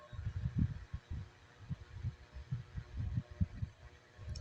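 Sewing machine stitching along the strip of a size 36 blouse as the fabric is turned, a quiet, close, low pulsing run of needle strokes with brief pauses and no talking.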